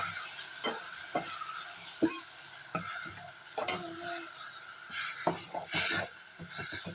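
Tamarind juice being stirred into a simmering okra curry in a pan, with intermittent spoon scrapes and soft sizzling, a handful of distinct stirring strokes close by, no talking.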